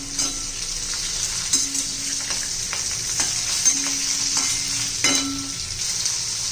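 Green chillies fry in hot oil with mustard seeds and dal, a loud continuous sizzle broken by intermittent scraping stirs and a few sharp pops, close up.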